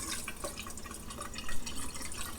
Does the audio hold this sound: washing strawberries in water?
yes